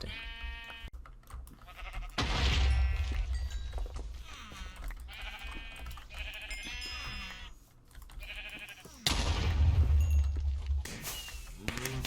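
Sheep bleat repeatedly in the blocky video game GregTech New Horizons, several loud cries overlapping with game thumps and hits as the animals are attacked and killed.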